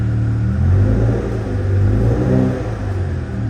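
A BMW E60 M5 with its S85 engine idles while warming up, a steady low rumble with gentle swells in engine speed, close by and without talk.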